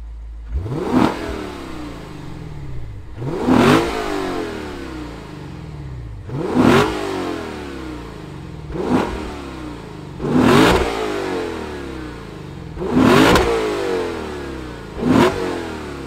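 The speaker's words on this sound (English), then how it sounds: "This thing has a titanium exhaust. Let's fire it up and hear what that naturally aspirated V8 sounds like." A naturally aspirated V8 in a 2021 Lexus RC F Fuji Speedway Edition with titanium exhaust revs in six sharp, loud blips spaced a few seconds apart. Each one rises quickly and falls away over a steady idle, with no talking.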